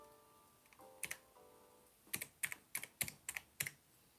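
Clacky keystrokes on a mechanical keyboard, a few scattered presses then a quick run of about eight sharp clicks, close and fairly quiet.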